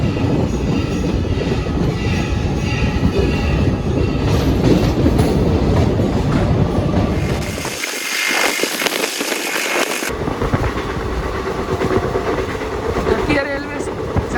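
An express train pulls out of a station in India, its loud, close wheels clattering in a steady clickety-clack rhythm with some squealing, plus a brief rushing burst midway; someone talks at times over the rail noise.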